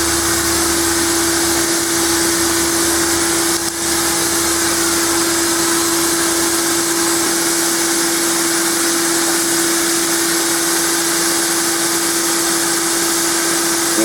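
A forge blower roars steadily while metal heats for a hand-forged feasting spoon, a loud continuous whoosh with a strong steady hum running alone throughout.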